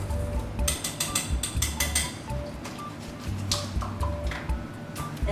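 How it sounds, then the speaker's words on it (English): A whisk stirs dry baking ingredients in a bowl, giving a quick run of rapid ticking, clattering strokes against the bowl that pause briefly, then resume in bursts at close range. "I'm actually just going to grab a whisk and just kind of whisk it up a little bit."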